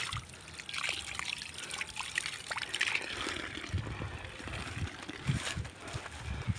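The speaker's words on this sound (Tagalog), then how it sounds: "Kusog na tubig." Water running through a rice paddy field, a steady close trickle and splashing flow with soft sloshing, fairly quiet and heard without speech.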